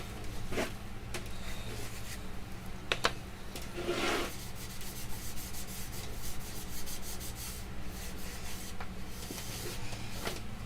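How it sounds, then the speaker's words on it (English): Yorkshire Grit abrasive paste rubbed onto spinning wood on a lathe gives a faint, continuous scratchy rubbing over a low motor hum, with a few sharper scrapes and taps scattered through. "So I'm just going to go over a bit of Yorkshire grit original."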